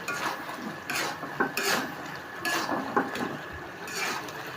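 Fish curry gravy is stirred and sautéed in a pan, giving repeated scraping sweeps of a spoon over a low simmering sizzle, close by and steady, with no voices.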